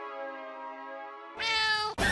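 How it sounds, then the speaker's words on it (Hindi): A cat meows in a drawn-out, close cry inside a warehouse storeroom, rising louder near the end before a short break and a sharper final yowl. "तो बिल्ली की आवाज कहाँ से है?"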